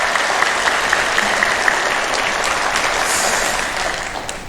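Church congregation at a Sunday worship service claps warmly to welcome a visiting missionary, a loud, dense burst of applause close by that tapers slightly at the end.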